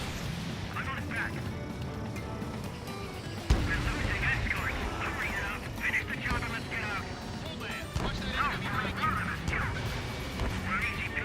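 Missiles firing in the combat flight game Ace Combat 7: a steady roar of jet engine with repeated launch whooshes and sharp bursts, one strong crack near the start, continuous and fairly loud throughout.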